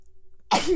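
A single sudden sneeze bursts out loud and close after a near-silent pause, during a casual celebrity chat-show conversation.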